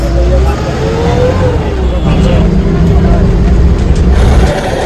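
Interior noise of a bus while riding on the way to Gulmarg in Kashmir, a loud steady engine rumble and road noise with rattles, plus faint background chatter from other passengers throughout.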